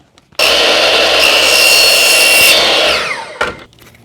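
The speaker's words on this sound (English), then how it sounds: "Being PVC, I will use the drop saw to cut this." A drop saw slices through 20mm PVC pipe, a sharp high-pitched whirring cut lasting about two and a half seconds before the blade winds down, followed by a brief clunk, close and loud.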